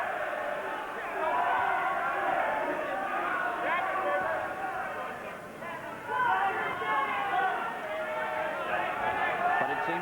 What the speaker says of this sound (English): And this crowd now singing its encouragement